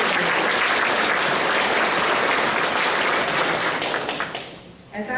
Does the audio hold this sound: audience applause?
yes